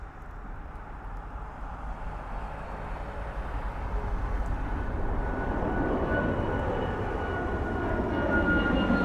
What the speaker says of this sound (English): Flair Airlines 737 MAX 8 going to Puerto Vallarta